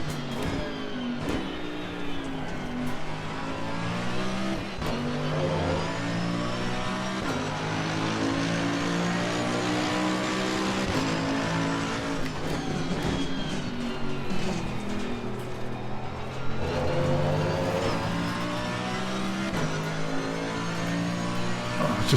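A race car engine in the Assetto Corsa Competizione video game revs up and down repeatedly, its harmonics climbing and falling in a loud, continuous, close-sounding drone with no talk over it.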